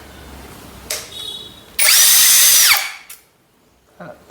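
A cordless drill unscrews screws from wood: a short whir, then a loud sustained spin of about a second, then a quick final burst, close up with brief low talk around it.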